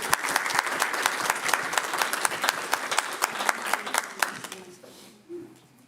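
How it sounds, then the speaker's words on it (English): An audience at a city council meeting applauds, a dense patter of many hands that rises and then fades out after about four seconds, with a faint voice following. "Let's give them a round of applause."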